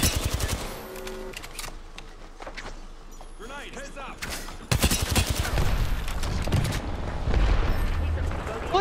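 Rapid repeated blasts from the Knuckle Cluster ability in a shooter game, dense bursts of loud, close firing that grow louder partway through, with voices talking underneath.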